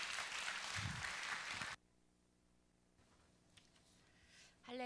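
A crowd applauds steadily for almost two seconds at a church service, welcoming a speaker, then the clapping cuts off, leaving a quiet hum and a few faint clicks.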